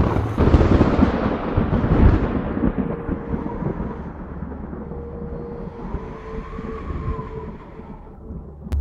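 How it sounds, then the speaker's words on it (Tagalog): Thunder rumbles before rain, a deep rolling boom that swells loudest early, then fades into a long, low grumble trailing off into quiet, with no voices. "kumukulog na. Buenas, mukhang uulan pa, sabi ni Ernel."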